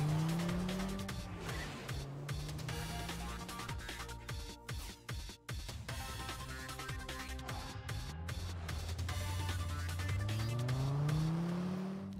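A car driven in the video game Deadly Premonition 2, its engine revving up and down with rising pitch sweeps, mixed with stretches of tire squeal and skidding, fairly steady and close.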